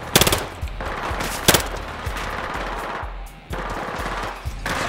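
Rapid automatic gunfire from the Battlefield Hardline video game, bursts of loud close shots with a few sharp louder cracks over dense continuous battle noise.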